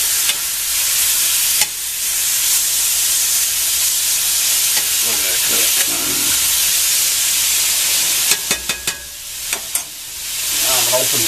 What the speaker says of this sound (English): You want to char that sausage. get it good and done.